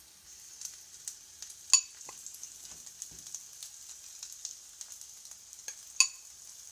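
Egg frying inside bell pepper rings in a pan, a soft continuous hiss with small crackles and a couple of sharper pops, fairly quiet and close.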